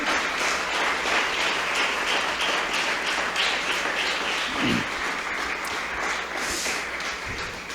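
Steady applause from a church congregation at an anniversary service, continuous and fairly loud throughout, with no voices on top.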